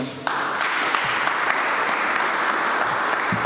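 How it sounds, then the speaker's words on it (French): Audience applause welcoming a speaker, breaking out abruptly and holding as a loud, dense clapping that fills the room for several seconds. "sous vos applaudissements"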